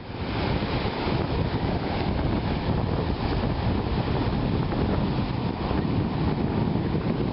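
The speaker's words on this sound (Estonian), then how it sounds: "Ja laine natuke rullib ka." Steady wind buffets the microphone while waves roll onto a cold, windy sea shore where people are swimming in water that gets deep close in; continuous broadband roar and surf wash throughout, no voices.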